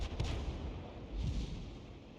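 A 13cm shell fired from the Lorraine 155 mle. 50 artillery piece in World of Tanks, heard as two faint, muffled low booms roughly a second apart over a soft, steady rumble.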